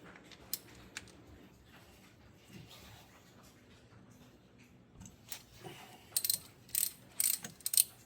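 A ratchet works a 16mm bolt on the water pump of a 2018 Dodge Durango 3.6L, quiet at first, then rapid clicking bursts near the end, close and without talk.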